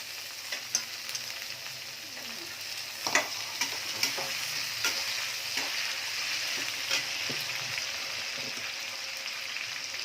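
Prawns hit a pan of frying taro greens, giving a steady close sizzle with scraping stirs and occasional spatula taps, no talking.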